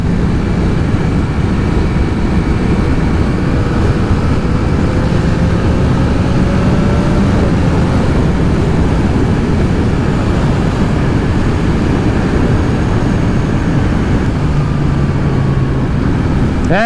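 Yamaha MT-09 SP 2022 motorcycle ridden on country roads, a steady loud engine drone with wind rush throughout and gentle shifts in pitch, no voices.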